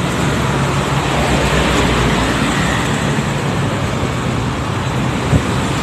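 Busy road with heavy traffic and passing buses, a dense continuous roar of engines and tyres at steady loudness, with no talk.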